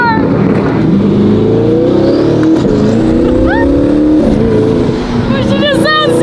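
A loud supercar engine revs and climbs in pitch as it accelerates, roaring steadily up close with rising tones.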